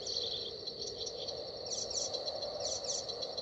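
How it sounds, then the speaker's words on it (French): Faint, small bird cries flutter in short bursts in the prairie territory of the Dragon Sim video game, carried over a steady, insect-like ambient hum with no talk. "étant donné les petits cris d'oiseaux que j'entends"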